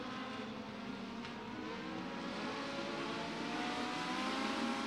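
Legend race cars roar down the back straightaway at Beckley Motor Speedway during a feature race, a steady, sustained engine drone that swells slightly as the pack carries its momentum, with no voices.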